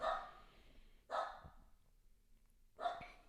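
A dog barks three times in separate bursts, close and moderately loud, with quiet gaps between them and no talking.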